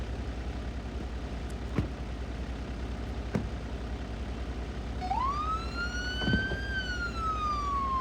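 A siren rises and wails in the distance after a few seconds of steady traffic rumble, with a couple of sharp knocks before it.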